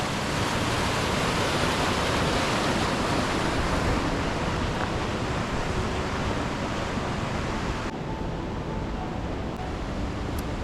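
Flowing water beside a restaurant among mountains in Bosnia and Herzegovina, a steady, dense rushing roar that stays constant and close throughout, with no voices.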